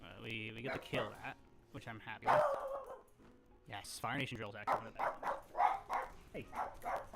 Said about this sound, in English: Excuse the dog from barking in your fucking ear.